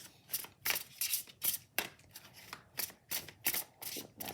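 Tarot cards shuffled by hand, a close, crisp run of riffling and flicking bursts repeating in a quick, fairly regular rhythm, with no talking.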